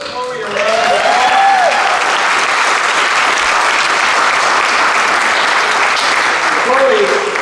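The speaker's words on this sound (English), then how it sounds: "Give Chloe a round of applause" A room full of listeners gives a student a loud, sustained round of applause, steady from start to finish, with a voice briefly heard over it.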